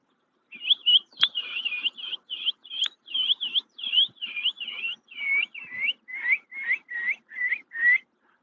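A songbird sings a long run of clear, repeated chirping whistles, about twenty evenly spaced notes, close and prominent with no talking.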